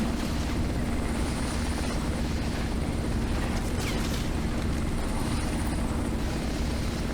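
Helicopter in Crysis Remastered with a loud, constant rotor thrum and engine roar throughout, close by and unbroken, with no talking.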